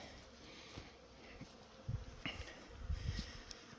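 A dense, continuous hum of many honeybees in a bee yard during hive work, moderately loud and even, with occasional low knocks and handling noises close by.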